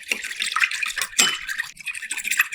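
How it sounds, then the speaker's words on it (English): Oil being stirred into a bowl of water, a continuous wet swishing and sloshing with brief splashy bursts, close and fairly soft, no voices. "Add some oil to the water and mix it up."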